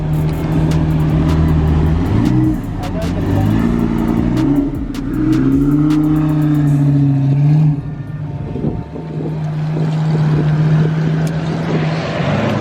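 A Lamborghini drives past with a rising, revving engine note that swells and sweeps through, strong and fairly near, then fades as quieter traffic rumble continues.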